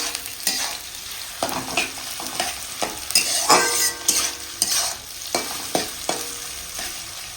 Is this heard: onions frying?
yes